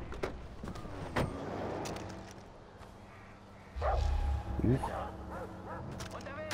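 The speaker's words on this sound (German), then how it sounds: "Die haben auch noch Hunde" Dogs bark and yip intermittently amid Far Cry 4 game sound effects and background noise, with people talking over the action.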